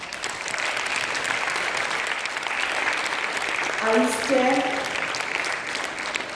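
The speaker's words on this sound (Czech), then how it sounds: "Prosím o veliký potlesk." Applause at an international youth festival event, a broad, steady round of clapping from a large audience, with a person speaking briefly over it partway through.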